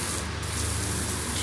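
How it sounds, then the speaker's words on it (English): A rinse pump on an Automated Blasting Auto 4x4 Vaqua wet blast system drives water through a nozzle, giving a steady, loud hissing spray close by, alone and without pause. "turn the rinse pump on. That gets you water to the nozzle here."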